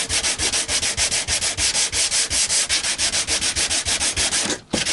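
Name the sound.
sanding the thick poly finish off an electric guitar neck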